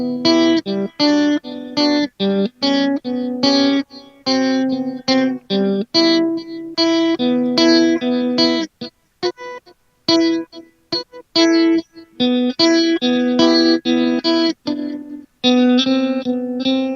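A Stewart Guitar Company travel guitar rings out with a clean amplified tone, steady strummed and picked chords played loud and close with a few short breaks, no voices over it.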